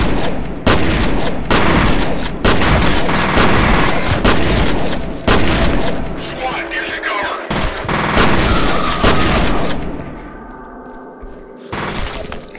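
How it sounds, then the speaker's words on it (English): Dense gunfire and grenade blasts from F.E.A.R. pound almost without pause, loud and close, with sharp bursts and heavy booms that ease off briefly near the end before one more burst. "Who's throwing grenades?"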